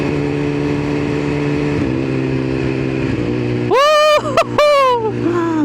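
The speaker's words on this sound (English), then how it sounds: "it sounds so good when you're just like going for it and then you're just shifting up" Hyperbike motorcycle with a quick shifter, engine droning and stepping up through gears, then revving hard with rapid rising sweeps and sharp upshift cuts, loud and close.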